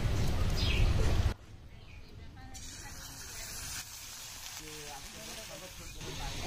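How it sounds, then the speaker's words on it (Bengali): Ground spice paste dropped into hot oil for a curry sizzles with a loud, bright hiss for the first second, then settles into a softer, steady crackle. "মশলাটা গরম তেলে ছেড়ে দিই।"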